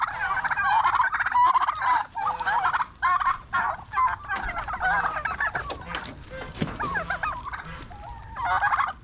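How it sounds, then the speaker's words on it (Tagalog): Turkeys on a farm gobbling loudly in repeated overlapping bursts while being fed, a dense close chorus of warbling calls with brief pauses between bouts. "at ito po ating mga pabo nagpapakain na po kami"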